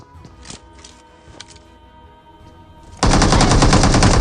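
PUBG/BGMI gameplay on an iPad 9th generation: scattered in-game gunshots and thuds give way to a loud, sustained burst of rapid automatic fire in the final second, close and harsh.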